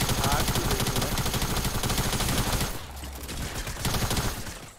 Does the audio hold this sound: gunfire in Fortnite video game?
yes